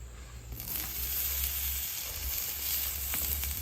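Potatoes and onions sizzle steadily on a hot griddle, a dense, continuous hiss that jumps up after a brief quieter moment and then holds at an even, close level with no talk.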